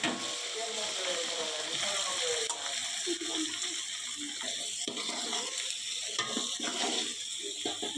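Washed lentils and vegetables going into a hot cooking pot, setting off a steady, close sizzle and frying hiss with wet stirring and a few pot knocks throughout.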